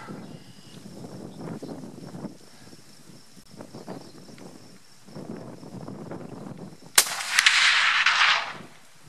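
A Remington Model 700 Ultimate muzzleloader fires a Barnes original bullet outdoors: one sharp, loud, close shot rings out after several seconds of low background noise, its echo trailing off.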